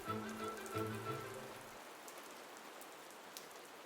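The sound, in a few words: rain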